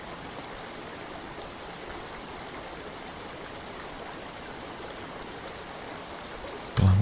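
River water rushing past below on a remote Scottish river, a steady, even roar of flowing water with no pauses, close and continuous throughout, ending in a brief louder burst.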